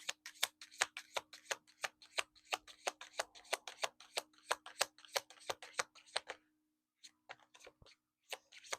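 A deck of tarot cards is riffled and shuffled close up in quick, crisp bursts of rhythmic snapping, a brief pause and then a few more sharp shuffles, with a faint steady hum underneath.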